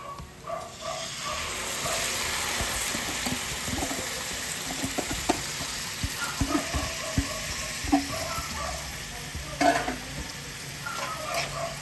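Rice fries in a pan with onion, garlic and ginger, a steady close sizzle broken by repeated sharp scraping and tapping of a utensil as it is stirred.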